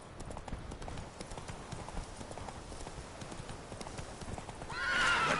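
A horse in The Witcher 3 gallops with rapid, rhythmic hoofbeats, and a loud neigh rises near the end. A voice is faintly present underneath.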